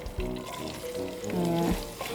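Onions fry in hot oil for pilau, a close, busy sizzle broken by brief tonal clatters like a spoon stirring in the pot over a couple of seconds.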